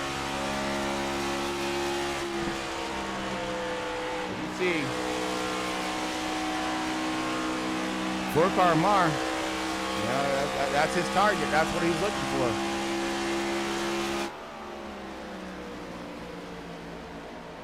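A stock race car engine at Kansas in iRacing drones steadily from an onboard view, a constant high pitched tone that shifts slightly as it drops off near the end, under commentators talking.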